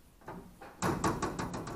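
The flap on a microwave door in a rental house drops loose with a few light plastic knocks and taps, then a quick patter of small clatters, close and fairly quiet with no speech.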